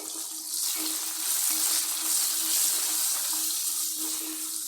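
Curry leaves and small shallots sauté in hot oil for a chicken pepper fry, giving a steady, close sizzle with a soft crackle. The pan stays at an even level throughout, with faint clinks of stirring and no talking.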